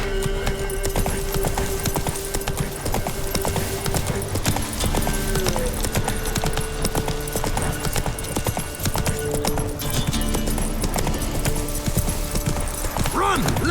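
Roach the horse gallops in The Witcher 3 with a steady, loud clip-clop of hooves, running under game music and occasional voices.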